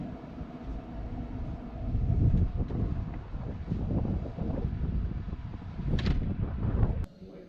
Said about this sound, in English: It got a little windy outside